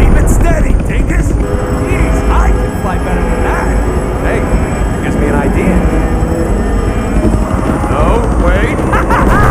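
A helicopter in the Deadpool video game roars loud and steady with a constant rotor and engine drone throughout, with game voices talking over it.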